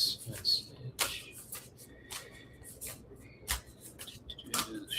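Cards are shuffled by hand in a quiet room, with a series of quick riffling bursts and soft flicks at uneven intervals, close and moderately loud.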